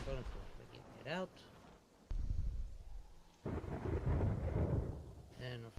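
A thunderstorm in the video game Terraria, with low rumbling bursts of thunder and rain noise rolling in and out, while a person talks between the rumbles.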